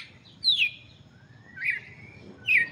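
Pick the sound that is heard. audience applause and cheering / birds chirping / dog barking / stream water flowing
birds chirping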